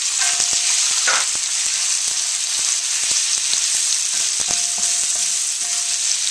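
Shrimp and pork stir-frying with instant ramen in a pan on the highest heat: a loud, steady, close hiss of sizzling oil with scattered sharp clicks and taps of a utensil, and no voices.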